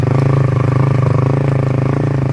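A motorcycle engine labouring up a hill, with a loud, close, steady throbbing drone and a constant rhythmic pulse and no talking.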